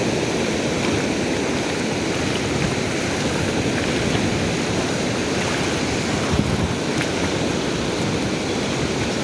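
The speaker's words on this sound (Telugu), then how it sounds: "ఇప్పుడు అలలు చాలా గట్టిగా వస్తున్నాయి" A loud, continuous roar of sea surf at Suryalanka Beach, Bapatla, as waves rush and break nearby, with no pauses and no voices.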